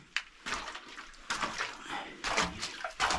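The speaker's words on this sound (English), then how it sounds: "a bit of a brook runs this way." A small brook runs beneath a house, a close, uneven trickle and slosh of water with faint bursts, fairly quiet throughout.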